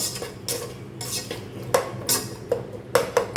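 Vegetable brinji rice with curd being stirred and sautéed in a pan, with a spoon scraping and clinking against the metal in irregular strokes, close up and with no talking.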